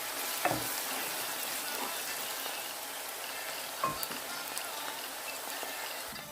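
Chopped onion frying in a pot of hot oil for a vegetable stew, giving a steady, close sizzle with a few sharper pops and clicks throughout.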